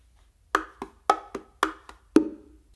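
Bongo strokes on the macho, the smaller drum, alternating open tones and finger strokes: six sharp hits in an uneven pattern, ending on a louder ringing open tone, played close and alone.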